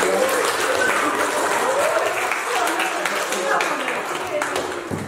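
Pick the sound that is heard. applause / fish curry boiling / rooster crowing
applause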